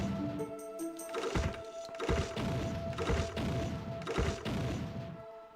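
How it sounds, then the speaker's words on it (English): Bombs explode in the PlayStation game Alundra, a series of four or five heavy, crunching booms at roughly regular intervals over a sustained music tone. "I love the explosion sound effect"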